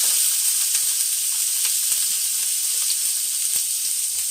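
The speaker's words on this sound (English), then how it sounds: "Now we're going to reheat some oil here, and we're going to saute our vegetables just a little bit here" A shallot sautés in reheated oil for gluten-free flounder and shrimp cakes: a continuous close sizzle with faint crackles scattered through it, steady from start to finish.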